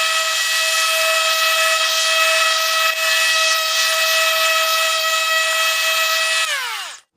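A DeWalt electric lawnmower mows over sand and topsoil, giving a loud steady high-pitched motor whine that holds for several seconds, then spins down and stops at the end.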